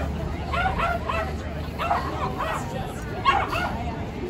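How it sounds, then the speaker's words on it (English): Several dogs bark and yip in quick bursts, some nearby and some farther off, amid a murmuring crowd at a summer dog festival and talent show. "with all these other dogs barking and everything going on"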